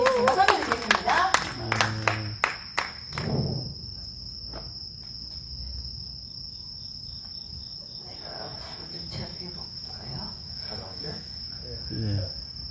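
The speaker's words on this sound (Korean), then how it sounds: "박수로 한번 청해 들어보도록 하겠습니다" An audience claps for a pansori performance at a temple cultural gathering. Loud bursts of clapping open the clip and fade within a few seconds, followed by quiet talk, with a steady insect-like tone running underneath.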